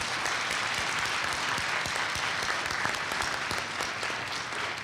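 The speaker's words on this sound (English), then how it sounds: "So let's give them a round of applause," An audience applauds spelling bee contestants at a school district spelling bee, a steady, dense wash of clapping that holds evenly for the whole stretch with no voices above it.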